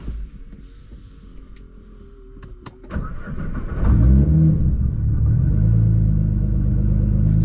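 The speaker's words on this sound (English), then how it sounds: "And we're gonna start the car." A Nissan GT-R running on E85 with a new tune starts after a few seconds of faint background noise, then settles into a loud, deep, steady idle and rev that stays close and strong to the end.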